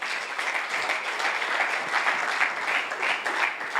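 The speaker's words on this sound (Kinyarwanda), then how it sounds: "Amashyi menshi ku Mwami Yesu." Sustained applause fills a church congregation during a revival-week sermon in praise of Jesus, dense clapping steady and moderately loud throughout with no talking.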